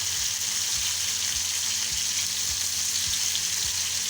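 Chicken malai boti frying on a grill pan over a high flame: a loud, steady sizzle with a constant hiss and some soft low clatter underneath, no talking.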